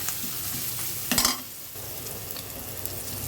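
Onions frying in ghee being stirred: a steady close sizzle with a brief louder burst of spatula scraping partway through, no voices.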